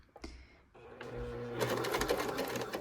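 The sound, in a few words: Kenmore sewing machine stitching a buttonhole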